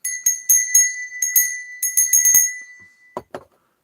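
A bronze bell rings in a quick, irregular series of clear metallic strikes, each leaving a bright ringing tone that fades, followed near the end by a couple of duller knocks and then silence.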